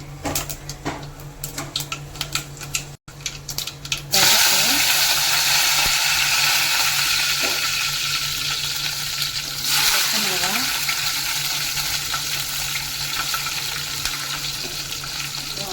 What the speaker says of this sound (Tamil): நல்லெண்ணெய் ஹீட் ஆனதும் கொஞ்சம் கடலைப்பருப்பு, பருப்பு, வெந்தயம்,